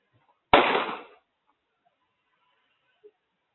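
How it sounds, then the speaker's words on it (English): Single sharp gunshot during an officer-involved shooting on South Seventh Avenue and West Oklahoma in Tampa, a loud broadband crack that decays over about half a second, followed by near silence with a faint distant tick. "you will hear a gunshot"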